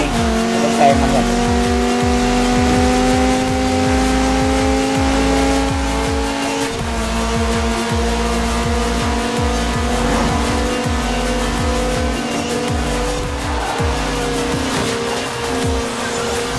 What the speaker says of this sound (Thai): นี่ไงเสียงรถในคันนี้นี่